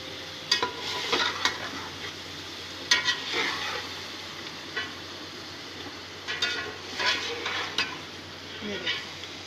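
Boiled chicken pieces frying with spices in a pot for chicken pulao, a continuous sizzle broken by repeated scraping and stirring strokes of a spoon, close and moderately loud.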